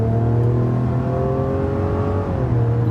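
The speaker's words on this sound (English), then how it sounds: "It's like a loud, noisy, rough engine." A rough inline-six engine in a Mazda CX-90 revs hard and accelerates, a loud, steady growl with a heavy low rumble and no voices.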